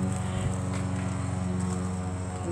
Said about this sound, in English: I think somebody's mowing the lawn